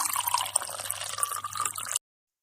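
Water trickles and drips as it is poured into a glass for drinking, a close, soft, steady stream for about two seconds before cutting off, with a low hum beneath.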